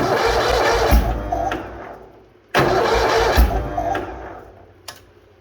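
Bolens HT-23 garden tractor engine cold-starting in -40 weather: two cranking bursts, each catching briefly and sputtering down, the second dying out, with a small knock near the end.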